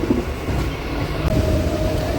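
A train rumbles steadily along the rails into Gopalnagar, a continuous low mechanical roar with a faint whine rising partway through.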